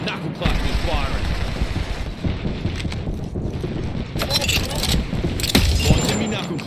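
Rapid weapon fire from the Knuckle Cluster in Apex Legends, busy bursts with sharp cracks and mechanical clatter, close and loud over a cluttered battle mix with voices underneath.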